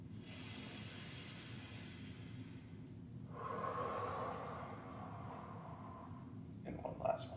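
Slow, deep breaths during an easy full-body stretching session, a long airy inhale then a fuller exhale with a soft sigh-like quality, close and quiet, with a faint low background hum and a brief rustle at the end.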